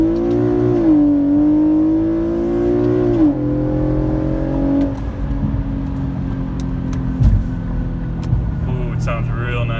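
An Infiniti Q50S engine and exhaust pulls steadily under acceleration, a loud droning tone climbing then shifting as gears change, heard from inside the car with a brief thump later.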